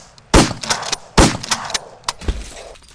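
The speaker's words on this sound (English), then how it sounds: "suddenly, Susie and Officer Blake drop dead from gunshot wounds" Gunshots in a sound effect, several sharp, loud cracks in quick succession with short echoing tails, close and punchy, without talk.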